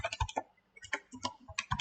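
Quiet typing on a computer keyboard as a password is entered, irregular clusters of soft key clicks close by, with no talking.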